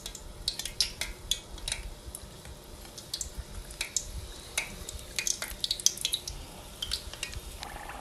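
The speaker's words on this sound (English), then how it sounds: "now we're just going to put the samosas in and we're going to fry them until they're nice and golden brown" Filo pastry samosas fry in hot oil in a pan with a soft, steady sizzle. Light clinks and taps of a utensil against the pan come through in irregular bursts at close range.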